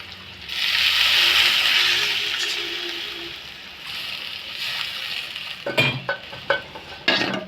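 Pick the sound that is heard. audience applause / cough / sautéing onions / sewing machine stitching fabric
sautéing onions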